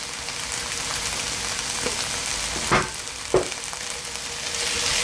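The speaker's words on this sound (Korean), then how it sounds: "지금 고춧가루 한 티스푼을 넣습니다" Chili powder frying in scallion and onion oil over low heat, a steady close sizzle with two brief louder scrapes of stirring, and no talk.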